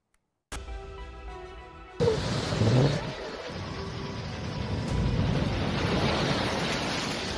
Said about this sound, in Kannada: ದೈತ್ಯ ಅಲೆಗಳು ಅಬ್ಬರಿಸ್ತಿವೆ